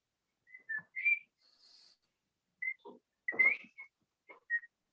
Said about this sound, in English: Whistling joyously.